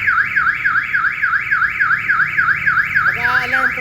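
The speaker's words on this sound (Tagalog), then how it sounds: "So, meron din po siyang alarm and panic button." A Mitsubishi L300 car alarm, set off by its panic button, wails loudly in a steady, fast up-and-down siren sweep, close by, before switching to a different pulsing tone near the end.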